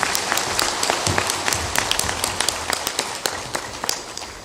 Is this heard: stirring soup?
no